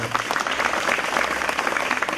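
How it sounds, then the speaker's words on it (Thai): Dense, continuous applause from a seated audience at a prison certificate ceremony in Nan, Thailand, honoring certificate recipients; steady and fairly loud throughout. "ปรบมือให้กับผู้รับเกียรติบัตร"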